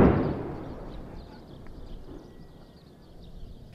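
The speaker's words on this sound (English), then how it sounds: "Finally, the crackling explosion." A single sharp explosive blast from an Israeli artillery shell in Gaza hits at the start, then a rumbling crackle fades away into quiet.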